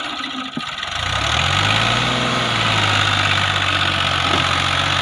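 A Fiat 480 tractor engine strains under load while pulling a loaded trolley, a loud, close diesel drone that rises and settles into a heavy, steady labouring rumble, with no voices.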